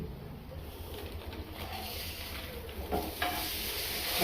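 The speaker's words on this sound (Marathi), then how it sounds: "सिझलिंगचा नॉईस येत असेल तुम्हाला" A sandwich patty fries in butter in a pan with a steady, moderate sizzle, joined by a couple of louder spatter bursts near the end, while a pigeon coos faintly in the background.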